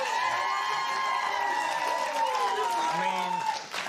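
Studio audience of a young guest's classmates cheering, whooping and applauding on a live evening TV show, a loud continuous crowd roar with shouts rising through it.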